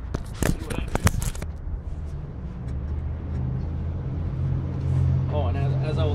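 A seized disc brake rotor on a Dodge Sprinter 3500 is tapped with a tool while being turned, giving a quick run of sharp metallic knocks, then a low steady engine hum with a voice near the end.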